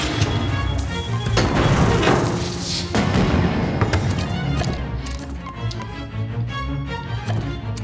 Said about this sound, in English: Almost all of them are about to explode!